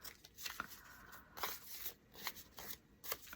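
Scissors cutting through damp cardboard to make decor carrots, a string of soft crunching snips at an irregular pace, close and quiet with no voices.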